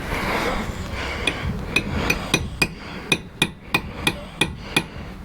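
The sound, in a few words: rubber mallet hammering skid plate tab on TW200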